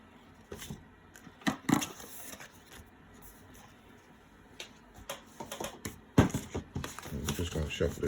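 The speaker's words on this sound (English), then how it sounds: "Just going to shuffle this deck one time real quick" A deck of tarot cards is shuffled by hand close up, crisp riffling and papery snaps coming in irregular bursts, loudest toward the end, with a soft background hum.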